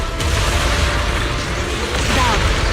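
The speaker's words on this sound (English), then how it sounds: "Move in during the gaps between explosions." Explosions in the video game Zenless Zone Zero come as a dense, steady wall of loud booming rumble with heavy low-end roar throughout, without clear gaps between blasts.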